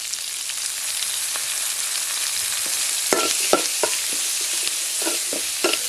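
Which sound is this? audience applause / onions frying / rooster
onions frying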